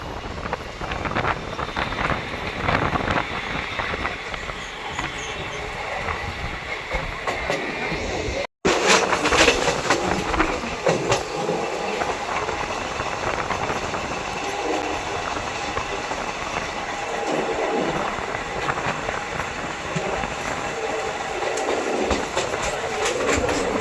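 A passenger train rolls steadily along a curved track near New Delhi with rhythmic clickety-clack and rumbling, wind buffeting the microphone throughout; a brief dropout near the middle.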